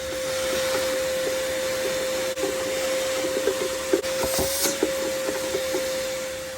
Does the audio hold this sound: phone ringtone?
no